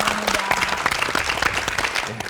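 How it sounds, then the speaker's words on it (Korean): A large audience claps loudly and continuously for a couple of seconds, the dense patter of many hands close and full, with a faint voice or cheer mixed under the applause. "진짜 행복한 오늘의 모습 계속 지켜가시라고 큰 박수 한번 부탁드리겠습니다"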